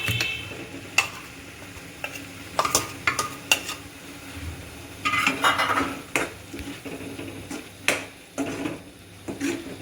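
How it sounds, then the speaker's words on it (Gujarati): Tomato gravy goes into browned onions in a pan with sharp clinks and clatters of a metal spoon against the pan, followed by stirring and a light sizzle. "હવે આપણે એમાં ટમેટાની ગ્રેવી એડ કરીશું."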